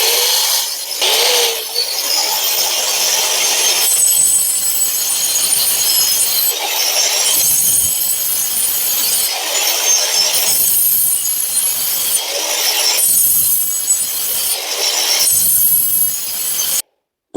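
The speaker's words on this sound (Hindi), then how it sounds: "हमने ये ग्राइंडर मशीन में ब्लेड डाल लिया है, अब कट लगा के दिखाते हैं" An electric grinder cutting teeth into the blade of a fodder chopper for green animal feed: a loud, continuous abrasive grinding that swells and eases in repeated passes of a few seconds each, with no talking.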